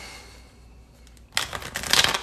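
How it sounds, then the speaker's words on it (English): Tarot cards being shuffled by hand, a quiet lull followed by a burst of rapid riffling flutters and papery slaps that grow louder toward the end, close up with no talking. "Let's see if I can shuffle one more time."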